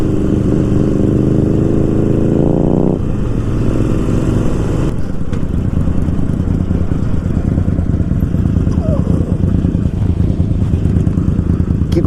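Harley-Davidson Iron 1200 motorcycle engine running loud and close, a steady throaty idle that climbs in a brief rev, then settles into a rough, continuous rumble.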